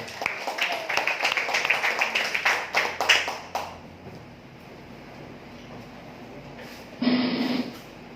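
Applause from a seminar audience, a dense burst of clapping for a few seconds that fades out, followed by quiet room noise and a brief later swell.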